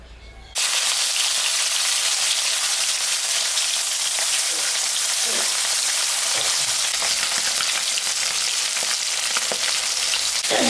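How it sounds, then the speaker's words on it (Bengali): A big cut fish fries in hot oil in a home kitchen. A loud, steady sizzle starts abruptly after a brief quiet moment and keeps going with faint crackles and no talk. "আমি এখন মাছটা ভেজে নেব, তেল দিয়ে দিলাম।"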